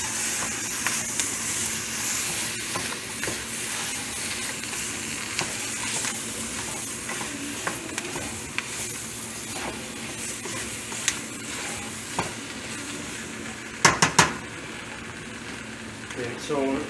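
Onions frying and being stirred in a flour-oil roux for gumbo give a continuous sizzle with scraping stirs, and a few sharper clinks come near the end.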